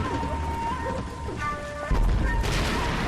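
Explosions and gunfire in a war flashback scene of the video game L.A. Noire, a dense, continuous rumble of blasts and crackling shots that swells sharply toward the end, under a faint tonal background.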